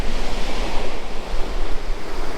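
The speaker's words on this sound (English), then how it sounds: "But the waves now pretty much are just building where it's coming up" Sea waves breaking and washing onto an East Coast beach at Spurn Road in the UK, a continuous loud roar of surf mixed with strong wind buffeting the microphone.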